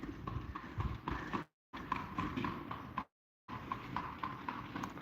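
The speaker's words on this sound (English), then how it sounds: "There's the horse and buggy." Rapid clip-clop of a horse and buggy's hooves on pavement in Lublin, steady and fairly close, with traffic rumble underneath and two brief dropouts.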